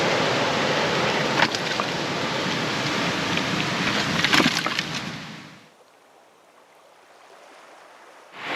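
Ocean swell surging through a sea cave on a remote island, a loud, broad rushing wash for several seconds that drops away abruptly, leaving a low quiet rumble before the water surges again at the end.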